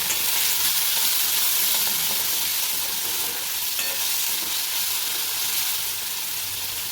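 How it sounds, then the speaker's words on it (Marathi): Chopped tomato fries in hot oil with whole chillies, a loud, continuous bright sizzle holding steady throughout with faint stirring texture and no talking. "तर आता आपण हा कट केलेला टोमॅटो तेलामध्ये फ्राय करून घेऊया."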